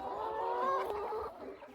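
Hens clucking inside a backyard homestead coop, several close overlapping murmuring clucks and a short drawn-out call over faint background noise.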